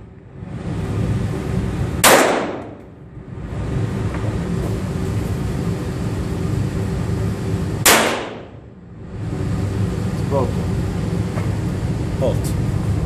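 Two sharp, loud shots from a Walther P22 pistol fitted with the shorter barrel and fired with RWS high velocity rounds, spaced about six seconds apart over steady background noise and voices.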